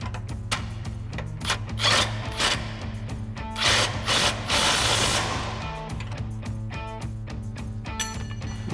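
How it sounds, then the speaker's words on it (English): Ratchet wrench with an 18 mm swivel socket and extension tightening the control arm bolts on a Ford F-150 during a suspension lift install, heard as repeated close clicking strokes with scraping and metal rubbing, and no talk. "tighten our bolts back down, again using our 18 mil swivel and extension and our 21 mil wrench"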